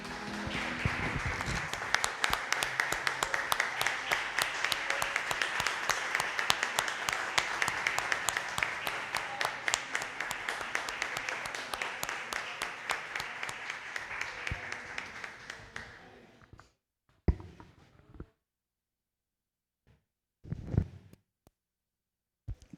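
A church congregation at a public worship service applauds in sustained dense clapping for about sixteen seconds before it dies away, followed by a few scattered claps and quiet gaps.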